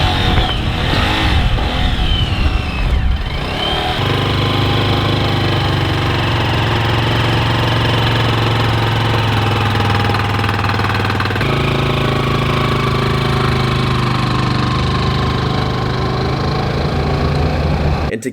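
Engine of a cheap Amazon motorcycle laboring steadily under heavy load while towing a 6,500-pound van from a dead stop, a loud, continuous droning roar with shifting pitch early on.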